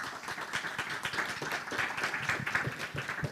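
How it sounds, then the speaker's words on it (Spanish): An audience at a panel on menstrual justice applauds the panelists, a steady patter of many hands clapping at moderate volume, slightly distant and without talk. "Un aplauso para ellas."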